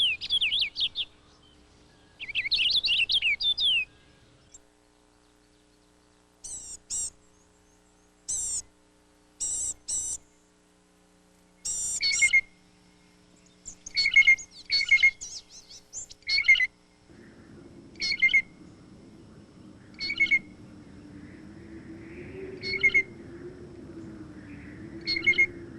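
Purple finches sing at a backyard feeder in winter: bright, warbling bursts and short repeated chirps, some clustered and some spaced apart, with a low steady hum rising beneath the later calls.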